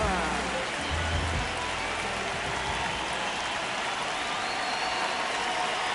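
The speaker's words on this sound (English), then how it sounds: "This rain is not letting up." Rain pours steadily over a ballpark in the MLB The Show baseball game, a constant hiss of drops with a faint crowd murmur and a low rumble early on.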